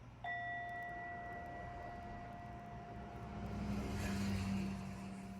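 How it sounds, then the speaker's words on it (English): A meditation bell struck once to close a guided meditation, its clear ringing tone swelling at once and then sustaining steadily with a long, even decay over low room hum. "I'm getting ready to ring the bell."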